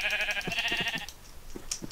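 Sheep bleat in the video game Minecraft: a loud, wavering electronic bleat lasting about a second, then a few short thuds and clicks from gameplay.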